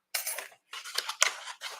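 Scissors snipping through stamped paper floral pieces, a few short crisp cutting strokes close up, separated by brief pauses, with no talking.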